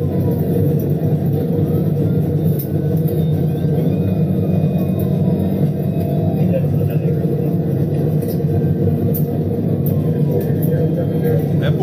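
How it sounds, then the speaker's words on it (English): A Ford Explorer races at high speed during a police chase, heard as a constant loud road and engine rumble from inside a pursuing vehicle, with voices talking underneath throughout. "That Ford Explorer is moving"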